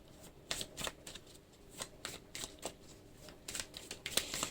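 Tarot cards are shuffled and cut by hand, producing a quiet, close series of crisp riffling flutters and soft slaps in irregular bursts, with no speech.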